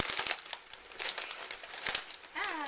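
Crinkly plastic noodle bag being pulled and torn open by hand in several short bursts, close by, followed by a brief spoken word.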